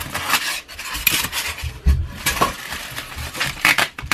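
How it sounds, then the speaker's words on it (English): Metal Allen keys rattle and clink inside a box packed with a Longworth-style woodturning chuck, giving a loose run of small metallic knocks and jingles close by, with no talk. "Allen keys for adjusting."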